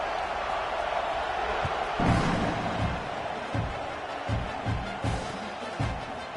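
A stadium crowd in the College Football 26 video game for Arkansas at Oklahoma gives a continuous, loud roaring buzz after a score, with occasional low thumps under the steady noise.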